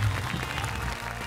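A studio audience on the variety show Happy Camp applauds to welcome a celebrity guest: a short, even wash of clapping at moderate volume with faint chatter beneath.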